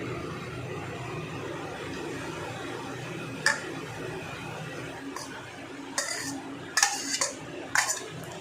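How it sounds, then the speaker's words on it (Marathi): Grated coconut being sautéed in hot ghee for coconut barfi, a soft steady sizzle with occasional spoon clinks and scrapes against the pan, close by, growing more frequent toward the end. "आता ह्याच्यामध्ये आपण खोबरं परतून घेणार आहात।"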